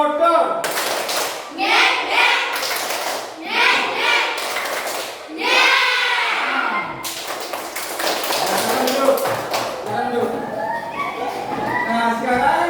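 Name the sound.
children's rhythmic class clapping chant (tepuk motor)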